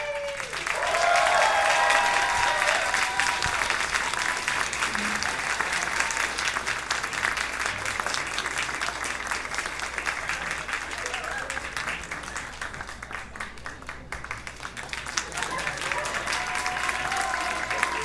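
After a vocal jazz set at the Ironwood jazz night, a concert crowd claps loudly and continuously for the performers leaving the stage, with a few louder bursts near the start and a brief dip before swelling again.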